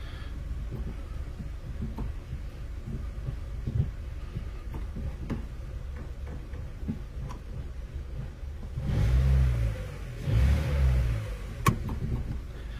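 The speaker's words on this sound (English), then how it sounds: "It wants to kind of stall, like the engine seems to be jumping up and down." A rough-running car engine idles unevenly and threatens to stall, a low rumble that rises in two short rev surges toward the end.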